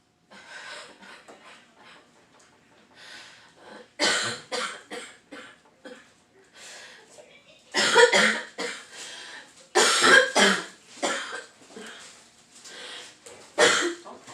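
A person coughs repeatedly in separate harsh bursts with quiet breathing between them, close and alone, during a Covid-19 testing situation.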